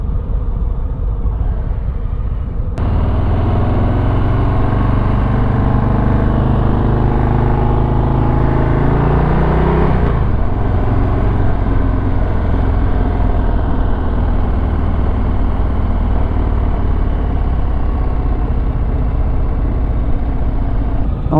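A 2022 Harley-Davidson Low Rider ST motorcycle engine rumbles steadily and close for about twenty seconds, a deep idle that lifts briefly in pitch midway before settling back, with no talking.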